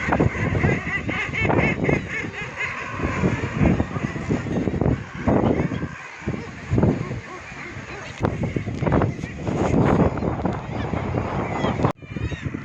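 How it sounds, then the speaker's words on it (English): Dense clamour of thousands of seabirds feeding over the North Sea off the Farne Islands, with continuous overlapping calls and squawks, near and loud, steady throughout with brief dips. "Look at the thousands of bird feeding in the North Sea, and that's just them feeding."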